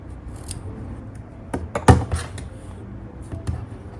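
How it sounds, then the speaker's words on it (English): A few quick snips of scissors cutting yarn during a crochet project, close and crisp, with one louder cut near the middle over a quiet background. "Now from here, cut your yarn"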